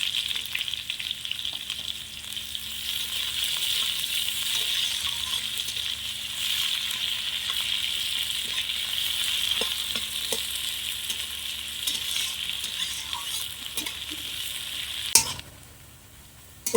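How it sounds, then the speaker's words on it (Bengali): Chopped onion frying in a pan with panch phoron and whole cumin for hilsa fish curry, a continuous bright sizzle with occasional stirring scrapes, ending in a sharp clank near the end. "এবার দেবো পেঁয়াজ কুচনো"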